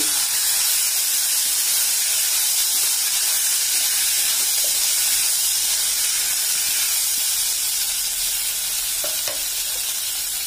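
A loud, steady sizzle of potato pieces and peas frying in a hot pan, with faint stirring scrapes throughout and no voices.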